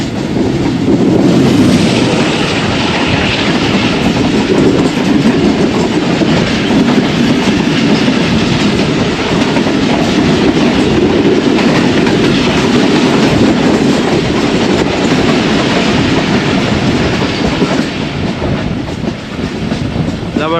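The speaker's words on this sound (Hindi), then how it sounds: "हमारी ट्रेन भी स्लो हो गई है" Pak Business Express passenger train running on rails between Karachi and Lahore, a steady loud rumble with rolling wheel clatter throughout, heard from inside or close to the carriages, no talk.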